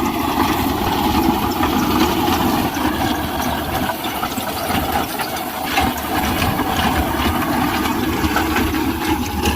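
A Deutz-Fahr Agrolux 55 tractor engine idles outdoors with a steady, unbroken rumble that holds a fairly loud, even level throughout, with no voices over it.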